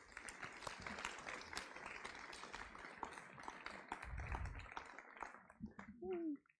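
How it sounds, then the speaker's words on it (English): Applause at a school sports awards ceremony, a steady wash of many hands clapping in a hall for several seconds before it thins out, with some voices near the end. "Can we get a round of applause for these guys"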